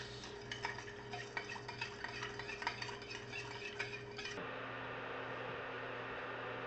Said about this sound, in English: 1/2 cup of mirin, and 1/4 cup of sugar. Give that a mix.